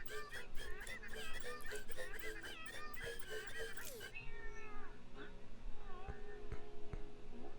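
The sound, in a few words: cat meowing in the Legends of Runeterra video game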